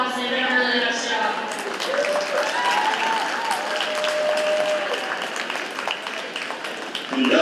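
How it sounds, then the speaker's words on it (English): Audience at a Williamson County 4-H show applauding the showmen, a sustained round of clapping from many hands, fairly near, with some voices mixed in throughout. "Let's give all these showmen all day a good round of applause."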